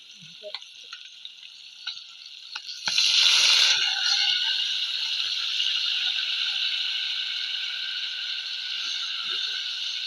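A few small clicks, then a sudden loud hiss as pan-rinsing water hits a hot pan of masala-coated small shrimp, settling into a steady bubbling sizzle that carries on.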